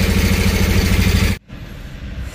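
A vehicle engine in Jaffna runs loud and close with a fast rhythmic throb, then cuts out abruptly partway through, leaving a much quieter low rumble. No one speaks over it.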